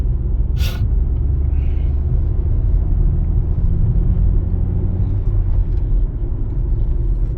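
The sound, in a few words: car driving on a road with potholes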